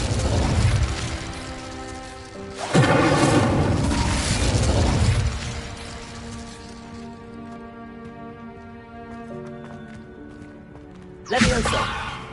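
Fiery magical spell bursts in a video game, two loud explosive whooshing blasts with crackling texture over a steady musical background, followed by a quieter stretch and another sudden burst near the end.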